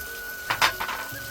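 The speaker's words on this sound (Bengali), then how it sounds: "দিয়ে এবার এটাকে খুব ভালো করে কষাবো।" Village-style fig curry masala with melted tomato sautéing in a pan, a soft steady sizzle with a couple of brief stirring scrapes, close by.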